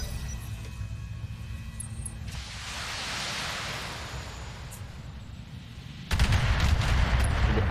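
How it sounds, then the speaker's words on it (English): Turret gunfire in a video game: a sustained noisy rush of rapid fire, ending in a louder, denser burst of heavy impacts. "You get peppered by damn turrets."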